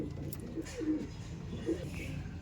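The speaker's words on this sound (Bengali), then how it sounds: "বিটার পায়রা এগুলো দেখুন" Pigeons in a loft of breeder birds give soft, low coos in a couple of brief phrases over a steady background hum, fairly close and moderately quiet.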